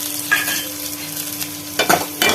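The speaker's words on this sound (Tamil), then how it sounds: "நல்லா வதங்கணும் அந்த எண்ணெயிலே கொஞ்சம் வதக்கி விட்டுக்கிடுவோம்" Small shallot-style onions sauté in oil for a Tirunelveli-style kuzhambu, a close, steady sizzle punctuated by a few quick stirring scrapes.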